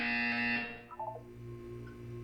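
Buzzer in the video game Portal 2, a bright harsh tone sounding for about half a second and then cutting off, followed by a few faint electronic blips over a low hum.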